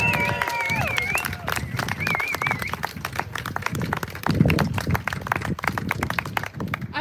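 An audience at a workers' union press conference claps steadily, dense overlapping applause with some whoops and cheers rising over it.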